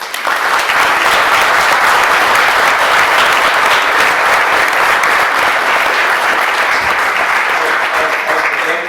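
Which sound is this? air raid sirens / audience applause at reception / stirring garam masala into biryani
audience applause at reception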